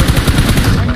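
Rapid automatic gunfire in the mobile shooter BGMI, a loud, dense burst of shots lasting about a second, close and continuous.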